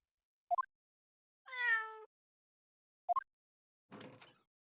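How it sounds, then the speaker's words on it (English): A cat in The Great Ace Attorney Chronicles video game gives short chirping meows and one longer, tonal mew, separated by quiet gaps and brief soft rustles, clean and isolated. "Oh, look at the little kitty."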